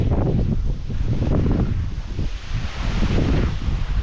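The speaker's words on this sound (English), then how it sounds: "Yeah, it's pretty windy." Strong wind buffets the microphone in a steady, loud roar, with low rumbling gusts rising and falling throughout, beside a sagging, flapping tent while bike touring the EuroVelo 9 route in Austria.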